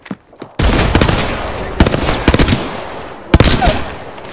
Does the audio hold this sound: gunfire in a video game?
yes